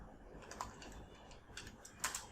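Code being typed on a computer keyboard for a sliding JavaScript navbar, a faint run of light keystroke clicks with a few sharper taps near the end.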